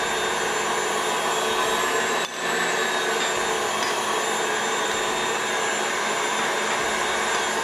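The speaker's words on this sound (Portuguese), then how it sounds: "Agora vamos deixar bater um pouco para que a clara e o açúcar fiquem bem firmes." An electric mixer beats egg whites with sugar for coconut sweets, giving a steady, fairly loud whirring drone with one brief dip, and no speech.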